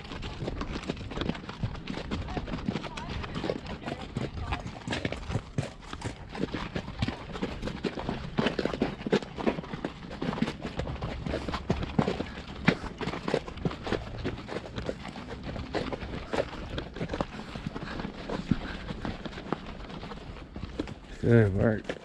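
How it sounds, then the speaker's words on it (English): Horse hooves clip-clopping at a steady walking rhythm on a rocky downhill trail ride through the Garden of the Gods, close by, with a rider talking over the hoofbeats. "This horse does not like the down slopes"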